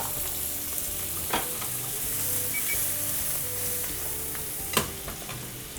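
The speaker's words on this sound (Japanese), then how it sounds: "お肉の脂と筋を こう炒めます。 はい、で筋と油が焼けてきたので最後バター入れます。" Steak fat and sinew fry in a pan with butter, making a continuous moderate sizzle with a couple of sharp utensil clinks and scraping stirs over it.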